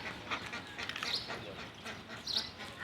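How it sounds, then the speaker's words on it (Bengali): Ducks quacking softly while feeding on a quiet morning, a few faint nasal calls scattered over low outdoor background, with someone talking over them. "দেখেন হাঁসে খাবার দিয়েছে, হাঁসে খাচ্ছে"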